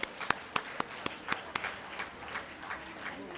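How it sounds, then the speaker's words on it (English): Scattered, sparse applause from an audience after a performance, a handful of distinct claps spaced out over a faint room background. "I think round of applause."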